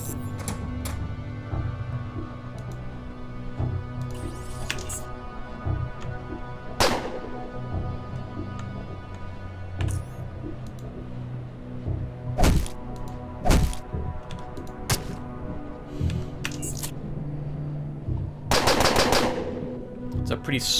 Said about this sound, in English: It's a pretty strong SMG.